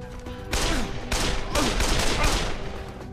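A burst rifle fires in the zombie game Dead Island, loud clustered volleys of rapid shots in three distinct bursts, each lasting around half a second, with game noise between them.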